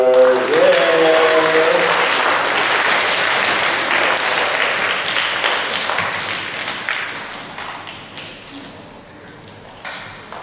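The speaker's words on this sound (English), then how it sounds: "A round of applause for Edward" A congregation at a school Mass bursts into loud, sustained applause for Edward, clapping dense at first and then thinning and fading over about ten seconds, with no talk over it.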